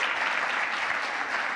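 Sustained applause from a conference crowd at a developer summit, a dense steady clapping that fills the room evenly with no breaks and no voices on top.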